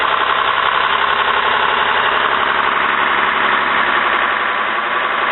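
A Cummins diesel engine with a VE injection pump idles loud and close, recently bled of air in the injector lines, giving a steady, rough, unbroken rumble for the whole stretch with no voices over it.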